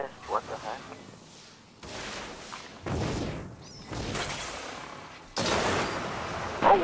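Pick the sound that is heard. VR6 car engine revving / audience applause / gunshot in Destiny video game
gunshot in Destiny video game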